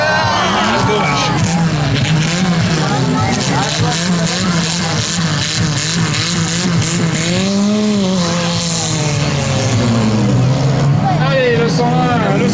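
Stock cars racing, a continuous loud roar of engines with rising and falling pitch as cars pass close, while a commentator talks excitedly over it.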